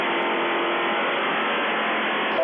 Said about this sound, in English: I wouldn't have to hear this fucking race car